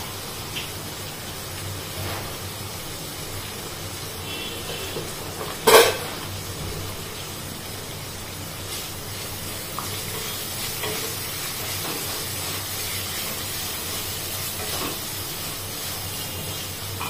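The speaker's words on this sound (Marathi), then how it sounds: "आपण हे जे वाटण करून घेतलेलं आहे ते टाकून घ्यायचंय, परतवून घ्यायचं छान असं सगळं" Ground masala paste sautés and is stirred in a pan for a no-onion, no-garlic festive Marathi thali, giving a steady soft sizzle and hiss with one brief louder clatter near the start, close by and without talk.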